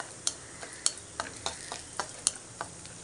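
Nuts and raisins frying in a pan for watermelon rind moong dal payasam: soft sizzling with sharp crackles and pops as the pieces are stirred, close and alone.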